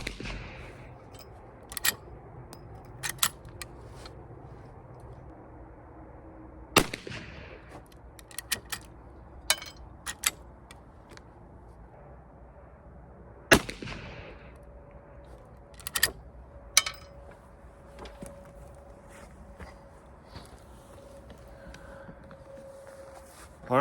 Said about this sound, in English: we're gonna shoot this jack with 240 grain XTP